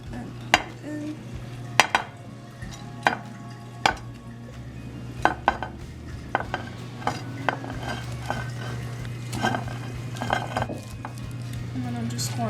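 Rice Krispie treats are scooped into a small clear plastic tray, with a series of sharp clinks and scrapes of utensils against containers over a steady low kitchen hum and faint background voices.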